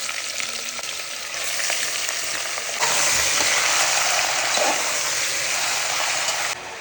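Chicken sizzles and crackles in hot sesame oil with curry leaves, a steady frying hiss that grows louder partway through and continues without talking.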